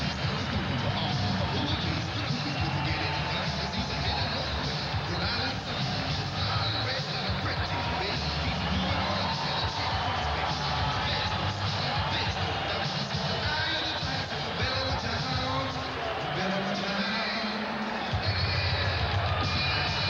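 A boxing arena crowd roars steadily as Vinny Pazienza makes his entrance, a dense, loud wall of cheering and hubbub sustained throughout, with a commentator talking over it.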